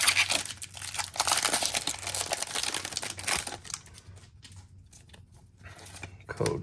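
A Pokémon Temporal Forces booster pack wrapper crinkles and tears open in a run of close, loud rustles that trail off into softer crackles, with no talking.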